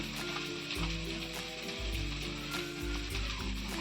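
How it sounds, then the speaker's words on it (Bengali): Onions fry in a hot pan with a constant close sizzle and crackle, with light stirring scrapes and no voices. "পেঁয়াজটা আমি ভালো করে ভেজে নেব"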